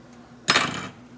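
A spoon stirs seasoned black beans in a cooking pot, giving one short burst of scraping and clinking about half a second long, close and fairly loud against a quiet kitchen.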